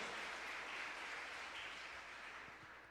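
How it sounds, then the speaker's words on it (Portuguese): Church congregation applauding in worship, a steady, dense wash of clapping that holds for about three seconds at a modest distance, fading slightly toward the end. "Podemos aplaudir o Senhor, queridos?"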